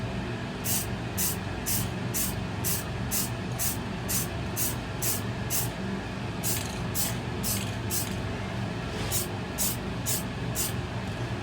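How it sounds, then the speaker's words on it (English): A spray can of clear coat hisses in a long series of short, evenly spaced bursts, about fifteen quick sprays with a brief pause partway through. "I'm going to use just regular spray clear on this one. Give it probably 2 to 3 coats."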